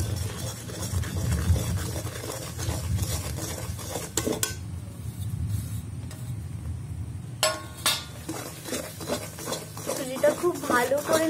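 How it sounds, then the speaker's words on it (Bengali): Spoon stirring fried semolina in a pan while making sujir laddu, giving a continuous soft scraping and occasional clinks of utensil against the pan, with a brief quieter pause midway. "সুজিটা খুব ভালো করে নাড়তে হবে"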